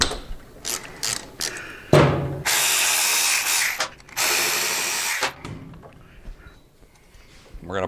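Bolts on a Harley Davidson brake caliper are broken loose with a powered ratchet, clicking ratchet strokes giving way to two loud sustained whirring runs, then quieter metal handling and faint speech.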